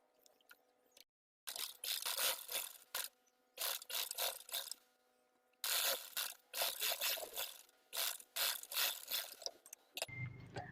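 A sewing machine stitches the shoulder seams of a shirt-style dress in repeated bursts of rapid rattling, stopping briefly between runs, close and fairly quiet.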